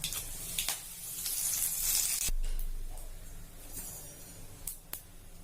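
Curry leaves and dried red chillies sizzle in hot oil, giving bursts of bright crackling hiss that swell and fade, with a few sharp spits and pops close by.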